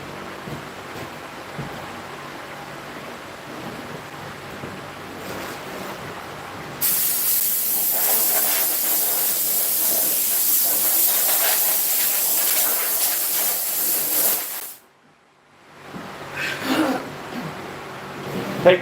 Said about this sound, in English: Here's the blow gun right here.